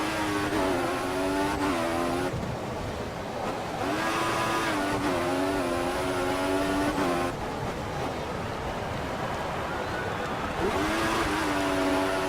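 A Formula 1 race car in the video game F1 2014 screams at high revs, its engine pitch climbing through gears, dropping briefly at shifts and braking before surging again into the corner.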